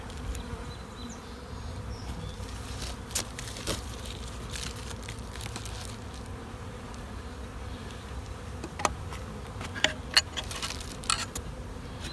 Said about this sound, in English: Lots of bees coming in and out.